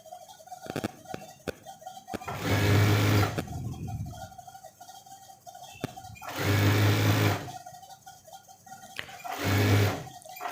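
A tailor's sewing machine stitches a coat, running in three bursts of steady whirring with pauses between, close and loud, with faint clicks in the gaps.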